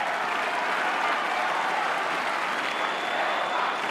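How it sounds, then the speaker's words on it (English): Steady applause from a St Kilda football crowd at an AFL match against GWS, a dense, even wash of clapping filling the stadium for the whole stretch without a break. "St Kilda crowd with applause."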